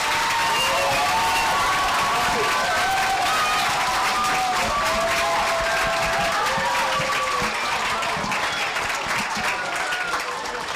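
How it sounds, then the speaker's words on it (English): Elementary schoolchildren in grades two to four give a long, loud round of applause at a school assembly, dense continuous clapping with excited high-pitched cheers and shouts throughout. "Can we give a huge round of applause to Minnijean?"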